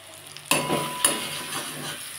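Masala frying in oil in a pan alongside potatoes for an egg curry, a soft sizzle with two sharp spoon knocks against the pan early on, followed by quieter stirring, close by, no talking.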